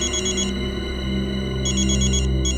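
A telephone rings in repeated electronic bursts during a tense moment as someone calls for an ambulance in a CID crime drama, loud and steady with a low hum beneath.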